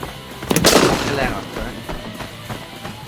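A sharp, loud gunshot burst cracks in an Arena Breakout firefight, followed by a few fainter shots and a lingering tail as the action continues.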